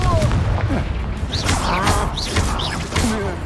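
The Confringo blasting spell cast in Hogwarts Legacy, loud booming impacts and whooshing magical bursts amid dense game combat noise, with a voice speaking over part of it.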